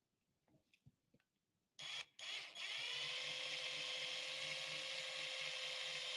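A small hand drill bores a small hole in a DIY peppermill: a few light clicks and handling noises, then the motor whirs up in two short bursts before running at a steady, loud whine.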